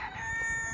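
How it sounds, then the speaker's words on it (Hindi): A rooster crows faintly in the background outdoors under a tree, a short partial call over steady ambient noise. "मुर्गे की बे टाइम की अजान दे रहे हैं"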